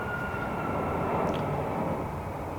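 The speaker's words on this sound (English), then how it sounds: "Let's wait for the airplane. I don't know if you guys are going to pick that up, but it's buzzing the roof of my building right now." An airplane flying low over a building produces a steady, broad engine roar that holds loud and constant for a couple of seconds, heard from indoors without any talking.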